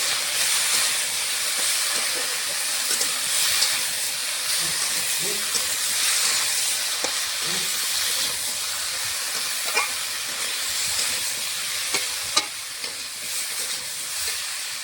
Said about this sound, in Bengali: বেগুনটা হালকা করে ভেজে নিচ্ছি, সবজির সঙ্গে তুলে নিচ্ছি